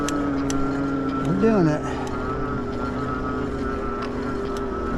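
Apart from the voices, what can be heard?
Senada Viper Plus e-bike motor climbing a hill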